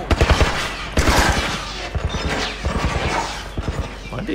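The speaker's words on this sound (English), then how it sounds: "Why are they still shooting?" Soldiers fire guns in The Last of Us Remastered, rapid bursts of shots cracking in uneven clusters, loud and close, with no one talking.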